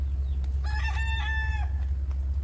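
A rooster crows once, a clear drawn-out call over a loud low rumble of background noise.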